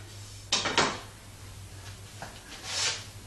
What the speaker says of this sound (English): now we'll simply turn this drawer around